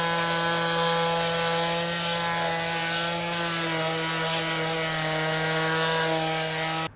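Power sander stripping factory varnish from a wooden tool handle, a loud steady motor drone with a constant pitch that hums on without pause.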